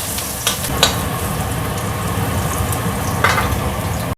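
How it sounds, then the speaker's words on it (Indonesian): Garlic and chili sautéing in a hot pan, a loud continuous sizzle with a few sharp stirring scrapes near the start and again toward the end, nobody talking. "Nah, aku masukin ya bawang putih sama cabai. Ditumis sampai wangi ya."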